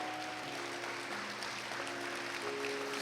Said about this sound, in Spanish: Vamos a rendirle un fuerte aplauso a la presencia de Dios que está en este lugar.